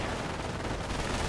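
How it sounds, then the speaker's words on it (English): Dense, continuous battle din of explosions and rapid gunfire in a World War II real-time strategy game fight near a collapsing train, a steady loud wash with no distinct individual shots. "The train collapses due to the sheer amount of explosions happening right next to it."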